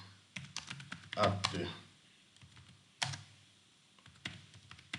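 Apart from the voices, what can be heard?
typing a message on a computer keyboard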